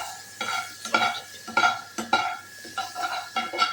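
Butter sizzles in a wok while cooking paneer, with repeated short stirring and scraping bursts at an irregular rhythm, close and moderately loud with no talk.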